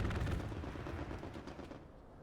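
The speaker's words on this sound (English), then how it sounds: "I just got strafed." Aircraft strafing in the World War II shooter Hell Let Loose, heard as a dense, rumbling burst of rapid gunfire that is heaviest at the start and tapers off toward the end.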